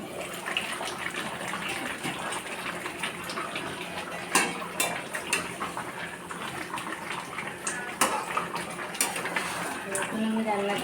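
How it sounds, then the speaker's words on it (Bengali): Chicken sizzles and is stirred in a pot while being fried down for chicken biryani, a steady crackle broken by scraping and clinking spoon strokes, with a voice talking over it. "এটা বিরিয়ানির জন্য চিকেনটা কষিয়ে নিচ্ছি।"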